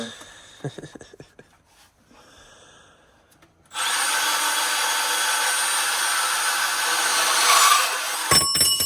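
A power tool bites into pipe while a water heater is being replaced in a cramped spot, starting abruptly after a few seconds of quiet shuffling and running as a steady, loud, grinding buzz with a brief voice near the end.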